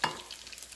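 An egg frying in a pan alongside cooked bacon for keto cauliflower fried rice, a sharp hiss as it hits the hot fat, then steady close sizzling and crackling with no voices.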